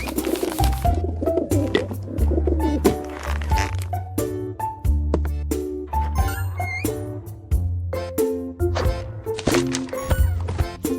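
Pigeons coo in a cartoon farm-animal game for preschoolers, soft repeated coos sitting over a steady looping tune with bright game chimes and taps.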